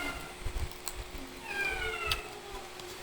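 A cat meows once: a single rising-and-falling cry, moderately close, over a faint background of household noise and soft clatter.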